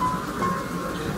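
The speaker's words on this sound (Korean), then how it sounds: "하늘에서는 하늘의 창문이 열리고 비가 주룩주룩 쏟아져 내렸고" Heavy rain pours steadily as a dense, even hiss with no break, loud and continuous, alone without any voices.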